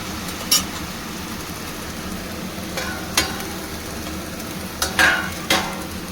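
Bottle gourd leaves stirred in a pan as they cook, with a steady low sizzle and a few sharp scraping clicks of the utensil against the pan, close and fairly quiet.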